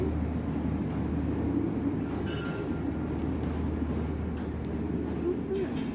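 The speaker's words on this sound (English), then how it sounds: "Must be a train or something." A train passes at a distance near an old blacksmith shop, a steady low rumbling roar that lasts throughout, with faint background voices.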